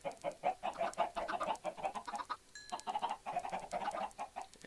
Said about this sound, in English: let's feed the chickens!